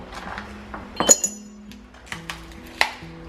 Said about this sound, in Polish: za dwie kostki lodu